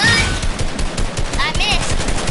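Rapid, loud automatic gunfire from a new gun in a video game rattles continuously in close bursts, with a few faint electronic tones layered over the shots.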